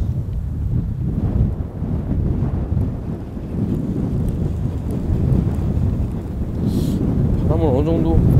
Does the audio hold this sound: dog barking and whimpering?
no